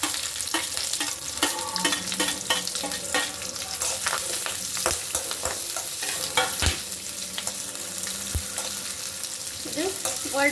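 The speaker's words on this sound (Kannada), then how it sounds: "ಇದು ಗೋಲ್ಡನ್ ಕಲರ್ ಬರೋಕ್ಕಂತ ಫ್ರೈ ಮಾಡ್ಕೊಳ್ಳಿ" Ginger garlic paste frying in a pan, a steady loud sizzle with frequent scraping and stirring clicks from a spoon, no voices.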